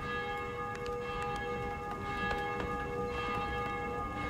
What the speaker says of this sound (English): I hear church bells.